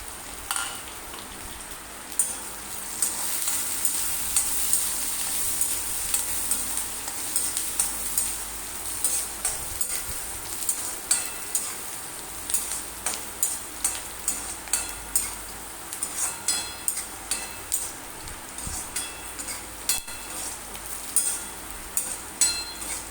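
Chopped onion and curry leaves fry in a pan with a crackling, popping sizzle, and regular stirring strokes scrape through it more sharply toward the end, with no talking.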